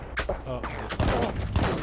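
Shotgun blasts sound in an online multiplayer shooter game as a couple of loud, booming shots over a dense, busy background of game noise and other gunfire.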